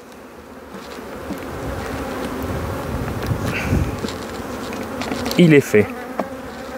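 A honeybee swarm being split off by a beekeeper on the coast hums in a steady, dense drone that stays close and even throughout, with a brief voice cutting in near the end.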